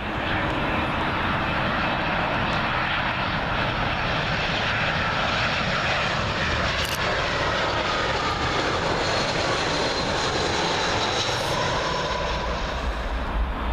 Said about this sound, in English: Up next, British Airways Airbus A319. And this one is arriving from Glasgow